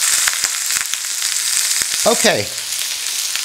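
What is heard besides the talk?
beef roast sizzling while pan frying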